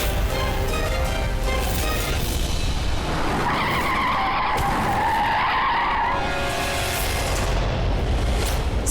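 Car tires skid hard on a busy main road, a loud sustained screech rising over steady traffic noise and lasting several seconds before fading, with no talk.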